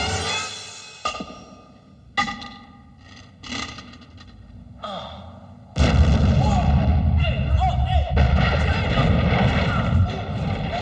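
A grenade goes off in a television action-comedy scene. Several sharp impacts lead into a loud, sustained blast and rumble, with voices mixed in.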